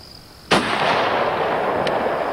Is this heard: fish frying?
no